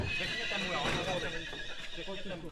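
A Przewalski's horse neighs with a wavering whinny, mixed with hoof clip-clops and heard under a narrating voice and background noise.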